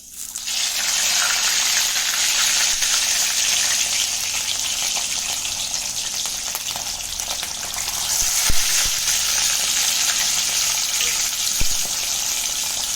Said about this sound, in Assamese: আৰু তেলো অলৰেডি গৰম হৈ গৈছে। মই ইয়াতে মাছখিনি নিমখ হালধি ঘঁহি থৈছোঁ। এতিয়া ইয়াতে ফ্ৰাই কৰি ল'ম।